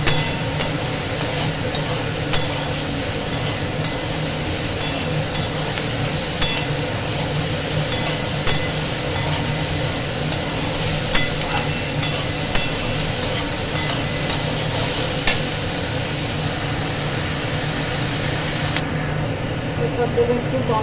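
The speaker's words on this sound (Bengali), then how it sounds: "ভালো করে ভাজবো।" Squeezed soya chunks fry in a pan, a continuous sizzle with scattered scraping stirs and small knocks, under background music, ending abruptly near the close.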